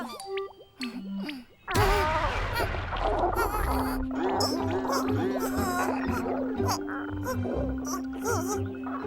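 A cartoon fart sound effect from a Korean children's animation. It plays as a run of bouncy, wobbling squeaks and toots over a busy, steady background, with voices around it.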